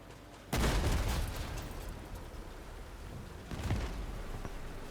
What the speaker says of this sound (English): Thank you for shooting the bot.